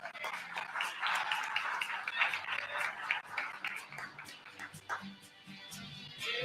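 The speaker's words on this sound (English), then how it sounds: "So let's give Levi a round of applause" An audience applauding at a signing-day event: continuous, moderately loud crowd clapping from several metres away, slowly thinning toward the end, with scattered voices in the background.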